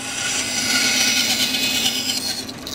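A bandsaw cuts through wood for a grade-eight memo holder project with a steady, loud, continuous rasping whine that holds throughout and eases off slightly at the end. No voices are heard.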